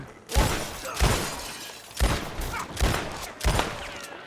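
Gunfire in a first-person video game: about five loud, sharp bursts of shots at irregular intervals over a constant background din, with no voices.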